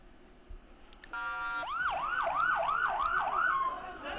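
An ambulance siren wails in Gaza, starting after a short horn-like blast and settling into a steady repeating up-sweeping whoop, moderately distant and continuous.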